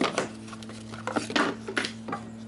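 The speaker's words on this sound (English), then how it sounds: "Just need to take 3 bolts out of the back" Bolts being removed from the back of a roadside-salvaged lawn mower, a series of sharp metallic clinks and ratcheting taps at close range over a low steady hum.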